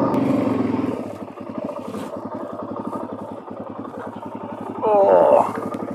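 Suzuki DRZ400 dirt bike engine chugging steadily while riding a trail, close and fairly loud, with a brief louder rev near the end and a rider talking over it.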